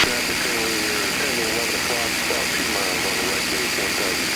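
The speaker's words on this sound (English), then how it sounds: "you're flying a fighter plane" The engine of a P-51 Mustang fighter plane drones steadily in flight, a loud, even roar that fills the cockpit while a voice talks over it on the intercom.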